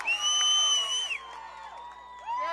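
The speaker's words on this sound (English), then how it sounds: "Crowd on its feet." A softball crowd rises to its feet during a CIF-SJS Division I final game between Vintage and Pleasant Grove, with cheering, whoops and shrill whistles over a brief moment.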